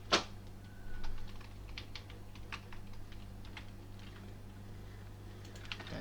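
Keystrokes on a computer keyboard while entering PHP and MySQL code, opening with one sharp clack followed by a scattered, uneven patter of quieter taps, close by and alone with no voices.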